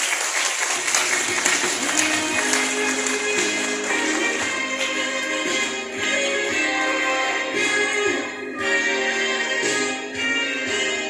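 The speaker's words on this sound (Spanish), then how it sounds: "Fuertes los aplausos" Steady applause from the audience at a school graduation ceremony in Chichica, dense and sustained for the whole stretch with a broad, even texture of many hands and no talk over it.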